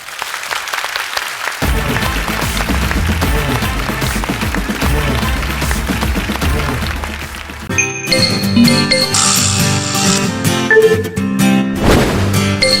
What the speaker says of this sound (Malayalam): ഇതിനകത്ത് ഒരു നല്ല കൈയടി കൊടുത്തേ അവർ കേക്കട്ടെ